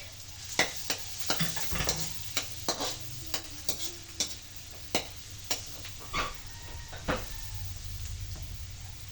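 A large amount of garlic sizzles in a very hot pan, with a steady frying hiss under repeated sharp spatula taps and scrapes at an uneven rhythm.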